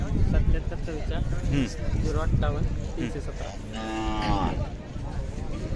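Khillar cattle moo in drawn-out, nearby calls over constant outdoor chatter from people talking.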